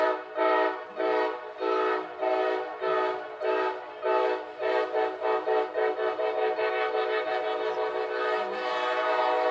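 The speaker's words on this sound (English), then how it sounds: "whoever's driving that train is having a good time" Near a Tampa versus Westminster men's lacrosse game, a train horn sounds in a string of short rhythmic blasts that quicken and then merge into a long sustained blare, fairly loud and clear.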